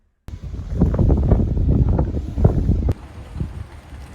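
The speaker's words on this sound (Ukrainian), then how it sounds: "сьогодні вітер сильніший, хвилі такі на морі, доволі такі сильні" Strong wind by the sea at Hurghada with rough waves buffets the microphone in a steady low roar, with gusts rising and falling throughout and a sudden drop near the end.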